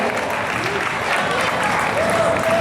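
Audience applause for third-year school band members at an eighth-grade recognition and director's award ceremony: steady, dense clapping from a crowd that stays at an even level, with a faint voice audible underneath near the end.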